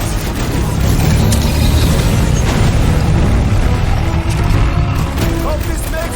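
Loud fireworks blasts in the Guardians of the Galaxy video game, with dense booming bursts and rumbling explosions sustained throughout over a busy battle soundscape.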